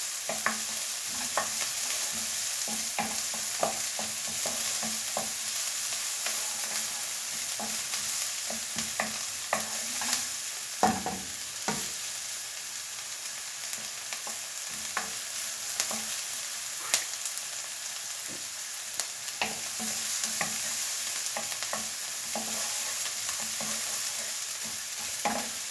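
Onions cook gently in a pan for homemade lasagne, a steady soft sizzle with repeated light scrapes and stirring clicks, close and continuous, no talking.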